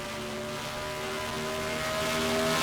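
A race car engine from a racing video game at Pocono drones at high, steady revs with clear harmonic tones, heard alone and fairly faint as the car starts a qualifying lap into turn one.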